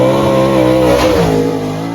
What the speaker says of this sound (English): There is the race car.